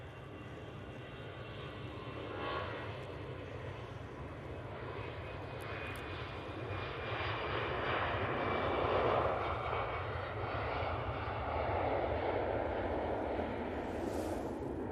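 A Eurowings airliner on its takeoff roll at Manchester Airport, a broad steady engine roar that swells gradually from moderate to loud, distant at first and building, with no voices.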